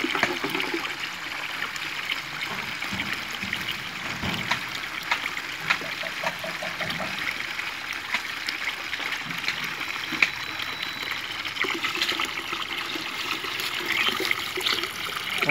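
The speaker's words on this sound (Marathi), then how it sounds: "याच्यामध्ये आपण परत पाणी ओततो आहे किती प्रेशरनं हे पाणी ओढतं आहे" Steady rushing and trickling water with a faint hiss as water is drawn through a Heera Super venturi fertilizer injector for drip irrigation, continuous throughout, close by, with no voices.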